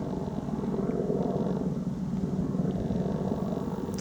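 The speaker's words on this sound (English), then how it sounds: "helicopter" A helicopter drones steadily overhead in open countryside near wind turbines, a continuous low rumbling beat that stays even and moderately distant throughout, with no talk.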